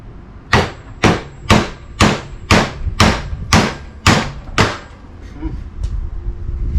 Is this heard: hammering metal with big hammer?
yes